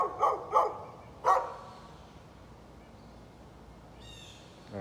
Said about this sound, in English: Dog just sits outside and barks.